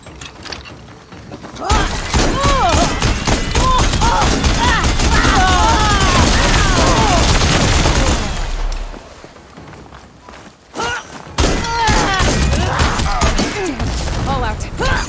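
A weapon fires in the video game Horizon Forbidden West: a long, loud, dense barrage of rapid shots and impacts, a short lull, then another volley, with voices speaking at times.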